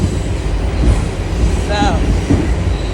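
Local C subway train on the New York metro riding along, a steady loud rumble of wheels on rails with a brief metallic squeal partway through, heard from inside the car.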